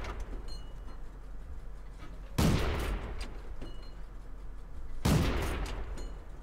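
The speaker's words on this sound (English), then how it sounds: "As you can see, very rapid fire gun" Renault FT AC tank destroyer's gun firing in World of Tanks: two loud, sharp blasts about three seconds apart, each with a rumbling tail, over steady battle ambience.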